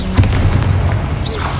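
A Confringo blasting spell explodes in Hogwarts Legacy: one deep, booming burst that lands close and loud, then rumbles and fades over a second or so.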